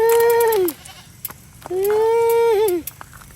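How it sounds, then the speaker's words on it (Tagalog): Goats bleat loudly on a steep hillside, two long, close, wavering calls separated by a brief pause with faint clicks and rustles between them. "Sobra, oh, dami mga kambing"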